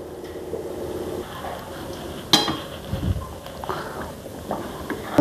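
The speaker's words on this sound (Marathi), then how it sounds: "सांडशीन व्यवस्थित पकडायचं आणि व्यवस्थित हलवायचं." Syrup being stirred in a pan gripped with tongs, close metallic scrapes and clinks against a low bubbling simmer, with one sharp clank partway through.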